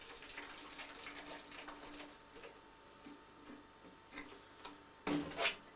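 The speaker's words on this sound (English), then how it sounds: "I'm going to add the sort of concentrated version of the coffee and washing soda" Concentrated coffee and washing soda developer poured into a container, a soft liquid trickle and splash under quiet room noise, ending in a louder burst of pouring near the end.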